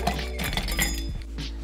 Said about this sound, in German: Dann greife ich zu meinen Eiswürfeln.